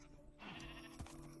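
A single sheep bleat from a Minecraft game sounds once, a short wavering call that rises then falls, clear and close against a faint background.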